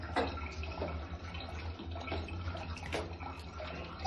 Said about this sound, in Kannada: ಇಲ್ಲಿ ಬನ್ನಿ, ಇಲ್ಲಿ ಹ್ಯಾಂಡ್ ವಾಶ್ ಮಾಡಿ